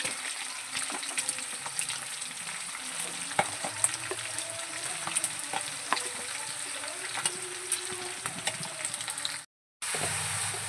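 Onion paste sizzles in hot oil with green chillies in a pan, a steady close frying hiss with occasional stirring scrapes, then a brief silent gap before the sizzle resumes.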